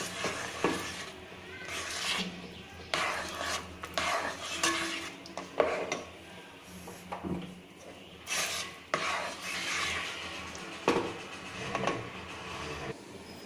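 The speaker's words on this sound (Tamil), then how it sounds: "நல்லா மிக்ஸ் பண்ணி விட்டு அடுப்பில் இருந்து இறக்கிடும்" Rava payasam being stirred in a pot with fried cashews and raisins mixed in, a close stream of scraping, rubbing spoon-against-metal strokes in uneven bursts, with no talking.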